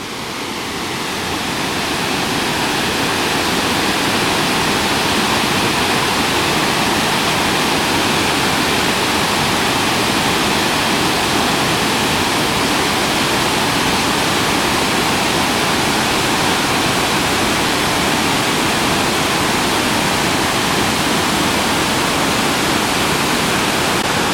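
Iguazu Falls in Argentina, seen from the upper trail, gives a steady, loud, broadband roar of falling water that swells in over the first seconds and then holds unbroken throughout.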